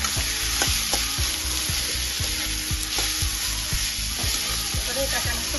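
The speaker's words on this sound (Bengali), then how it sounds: "এবারে এটাকে আমি একটু ভালো করে ভেজে নেবো গাজরটা।" Grated carrots fry in a pan with a steady, loud sizzle, punctuated by regular scraping stirs of a utensil against the pan.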